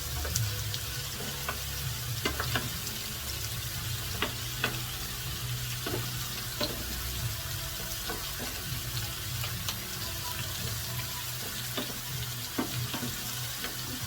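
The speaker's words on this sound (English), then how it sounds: "You stir it around so they all can brown equally" Salmon en croûte filling frying in a pan while being stirred until golden brown, a steady close sizzle with scattered scraping clicks from the spoon throughout, no talking.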